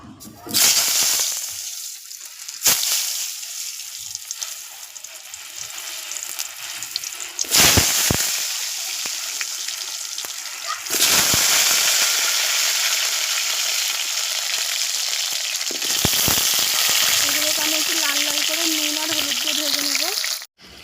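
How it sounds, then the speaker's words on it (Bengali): Pieces of taro and potato dropped one by one into a hot kadai for a beef curry, each addition setting off a loud burst of sizzling that settles between drops; a brief voice-like tone surfaces near the end. "কড়া গরম হয়ে গেছে আমি এবারে কচু আর আলুগুলো একে একে ছেড়ে দেবো"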